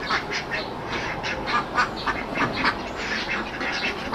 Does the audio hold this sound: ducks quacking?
yes